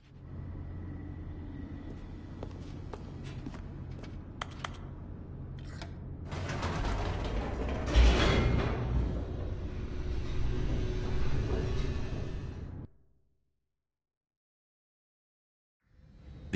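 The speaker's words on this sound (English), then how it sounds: "The elevator raced downward, plummeting towards an unknown fate." An elevator descends in The Stanley Parable, a steady mechanical rumble that swells louder and fuller midway with whooshing motion, then cuts off abruptly into silence.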